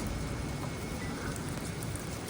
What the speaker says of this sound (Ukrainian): Реальний пішов дощик